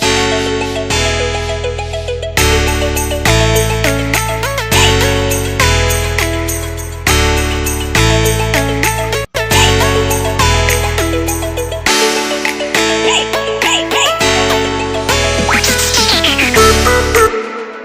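Second section of an electronic NCS-style track, a bright synth arpeggio pulsing in repeated blocks over a deep bass, fading in and out, dense and loud, with a brief dropout midway and no voice.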